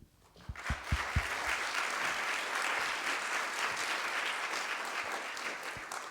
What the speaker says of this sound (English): I give you my applause.